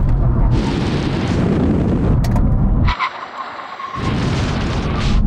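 A Porsche 911 Turbo S and a BMW M3 under full emergency braking, loud wind and engine roar giving way to a short skid and tyre scrub, then roaring rushing noise again.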